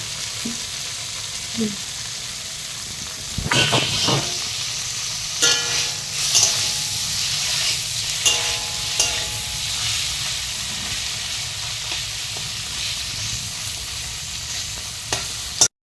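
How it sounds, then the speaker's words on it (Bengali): Paneer cubes fry steadily in a pan in a village kitchen, with a continuous close sizzle and crackle, broken by occasional louder bursts and scraping stirs, and no voices. "তোমরা দেখতে থাকো কীভাবে আমি ভাজি।"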